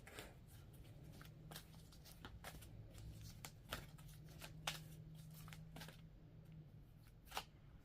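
A deck of tarot cards being shuffled by hand, soft repeated riffling and flicking snaps at close range in a quiet room, irregular bursts continuing steadily with no talking.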